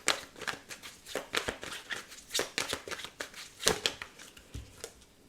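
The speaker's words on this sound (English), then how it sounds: "Oh, this is not shuffling." Tarot cards being shuffled by hand, a steady run of soft riffling and flicking bursts at close range, with no talk.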